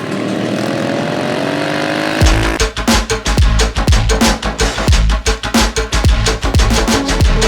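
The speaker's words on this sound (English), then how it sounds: "to ride the GT650R race-spec bike" A Royal Enfield Continental GT650R race-spec motorcycle at a racing tournament, with steady engine drone then a loud, close run of repeated revs and gear-shift pulses.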